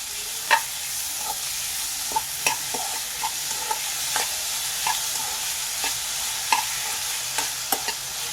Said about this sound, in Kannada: ಟೊಮೆಟೊ ಸ್ವಲ್ಪ ಸಾಫ್ಟ್ ಆಗಬೇಕು, ಅಲ್ಲಿವರೆಗೂ ಫ್ರೈ ಮಾಡ್ಕೊಳ್ಳಿ.